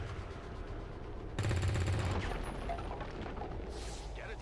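Overwatch reaction shots in XCOM 2: War of the Chosen go off against zombies as a short burst of rapid game gunfire, loud and dense, followed by booming impacts and mechanical noise, with no voices heard.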